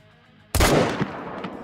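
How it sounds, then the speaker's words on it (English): A hunting rifle fires at a red deer in theHunter: Call of the Wild, one loud close crack after quiet, then a rolling echo that fades with a few faint later thumps. "Go ahead and take a shot at him."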